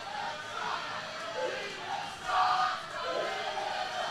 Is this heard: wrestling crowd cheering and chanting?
yes